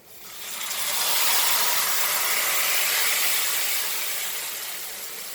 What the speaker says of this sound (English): it's now time to add our milk. So this is 3 cups of milk which is boiled